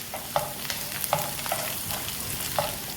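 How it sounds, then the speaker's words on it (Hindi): Garlic sautéing in hot oil over a low flame, a steady crackling hiss punctuated by a few soft scraping stirs of a spatula. "लहसुन को आपने हल्का सा सोते कर लेना है"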